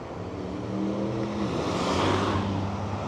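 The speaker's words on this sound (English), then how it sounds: "Yeah, these cars are coming close to me." Cars pass close by a cyclist on a road, a steady broad whoosh of traffic swelling as vehicles go by, with low engine hum underneath and no talking.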